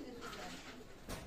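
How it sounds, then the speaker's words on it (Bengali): A Shiyalkuti pigeon, shown at close range by a pigeon keeper, gives a short, soft, low coo that stays faint against a quiet room and a murmur of voice. "এটা হচ্ছে শিয়ালকুটি কবুতর।"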